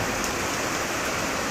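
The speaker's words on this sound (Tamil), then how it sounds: "பாருங்கள் என்ன மழை பாருங்கள், என்ன மழை சரியான மழை பாருங்கள்." Heavy rain pouring down in a steady, dense wash of noise, loud and continuous with no break, alone without any voices.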